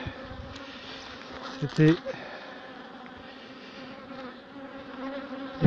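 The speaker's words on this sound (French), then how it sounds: "les petites abeilles en train de construire un cadre" Honeybees building wax comb on a hive frame give a steady, dense buzzing that fills the whole stretch, close by, with a brief louder burst as bees pass near and a little talk over it.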